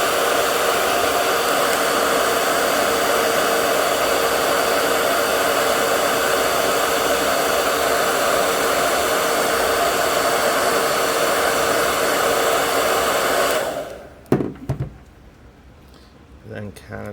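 A heat gun or hair dryer blows steadily and loudly for about fourteen seconds while warming a part of a NECA Spider Gremlin toy, then cuts off, leaving a few soft handling clicks.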